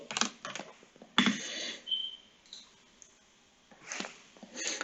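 Keystrokes on a computer keyboard while working in an Excel spreadsheet, a few sharp clicks spaced out with quiet gaps between, close and fairly faint, with no talking.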